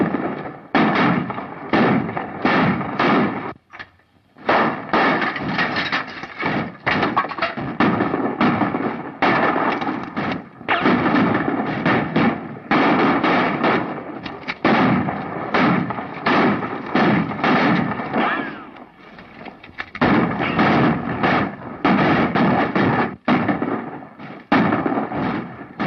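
Dense, nearly continuous barrage of sharp gunfire blasts in a John Wayne western film over 25 seconds, loud and close, with only brief pauses between volleys.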